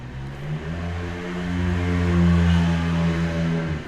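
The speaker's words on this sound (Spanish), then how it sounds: "ahí están pasando unas motos" Motorcycles pass along a street outside, a droning engine note with steady harmonics that swells and peaks mid-way before easing slightly, fairly loud and close with no talk over it.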